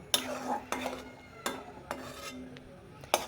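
A spoon stirs sugar syrup in a pan, giving several separate metallic scrapes and clinks at an uneven pace, close and fairly quiet.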